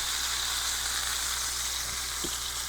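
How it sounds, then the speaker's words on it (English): Steak laid fat side down in a hot pan for a hard sear: a steady, dense frying sizzle throughout, with a brief faint knock near the end and no voices. "Lay it over. I'm gonna get a little harder sear."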